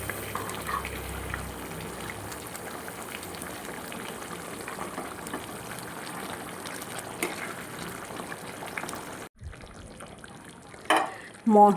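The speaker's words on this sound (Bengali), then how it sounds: "আবারও ভালো করে নেড়ে চেড়ে নেব" Mutton curry with nutmeg, mace and meat masala cooks in a pot, a steady low bubbling sizzle with soft stirring that cuts out abruptly, followed by quieter room sound and a couple of louder clattering knocks near the end.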